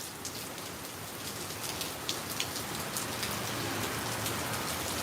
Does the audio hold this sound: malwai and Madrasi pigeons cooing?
no